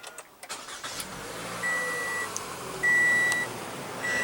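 A 2016 Toyota Camry with the 2.5 L inline four-cylinder starts by push button: a brief crank and catch, then a steady idle, with electronic chimes repeating over the engine.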